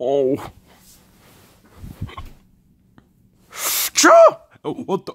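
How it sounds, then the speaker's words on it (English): A sneeze from a puppet character in a comedy skit, loud and abrupt near the middle, set among short exclamations and speech. "How'd you sneeze?"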